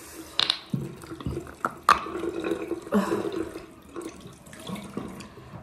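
Hot water runs from a tap into a sink as makeup is washed off, a steady splashing stream with a few brief knocks and drips, close by and with no talking.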